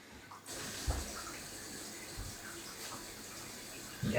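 Water filling an aquarium and starting to run out through overflow holes in a levitating moss stone tank, a soft steady trickle with a few small splashes, fairly quiet and close, no talking.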